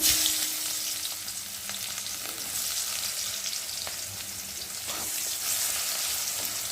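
Chopped onion with cumin seeds and dried red chili sizzles steadily in a pan, a continuous hiss with a few soft stirring clicks, no voices.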